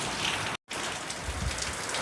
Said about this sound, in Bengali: বাইরে বৃষ্টিটা যা দারুণ লাগছে অসাধারণ লাগছে